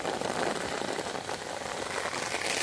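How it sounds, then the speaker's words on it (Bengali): Heavy rain pours down steadily during an afternoon downpour in strong wind, a dense, continuous broadband hiss of drops hitting surfaces that stays loud and even from start to finish. "দেখো বৃষ্টিও পড়ছে মারাত্মক।"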